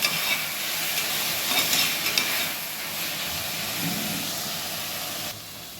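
Half a kilo of beef sizzling in a pan while biryani is cooked, a loud, steady frying hiss with occasional stirring scrapes, close up and without speech.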